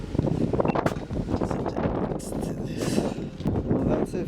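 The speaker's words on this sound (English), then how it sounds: "It's so windy" Strong outdoor wind buffets the microphone with constant low rumbling gusts and rushing noise, loud and close throughout, with a voice faintly present underneath.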